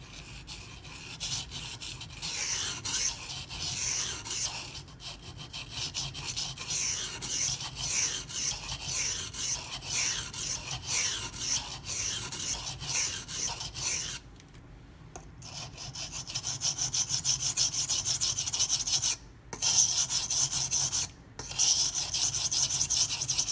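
Blade of a Zero Tolerance 0393 knife in CPM-20CV steel drawn across silicon carbide stones in steady repeated strokes. The rasping runs continuously and up close, with a few short breaks near the end.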